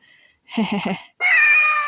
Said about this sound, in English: Nami had pointed the flashlight down to reveal a black cat with a bell on it, sitting at my feet.